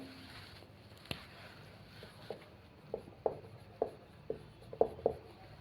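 Marker or chalk strokes on a classroom board as a teacher writes out the topic of a Class 12 lesson on the Tyndall effect, a series of short, light scratching taps that quicken toward the end over a faint room hum.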